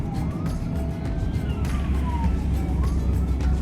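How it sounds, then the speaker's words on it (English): Distant wailing police sirens rise and fall over a loud, constant rumble of traffic and city noise at Dealey Plaza in Dallas, Texas. "And you can hear the sirens again."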